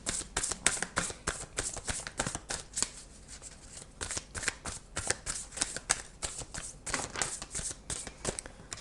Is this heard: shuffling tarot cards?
yes